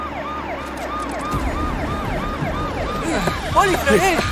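A police siren wails close by in a repeating rising and falling pattern that grows more urgent toward the end, over traffic noise.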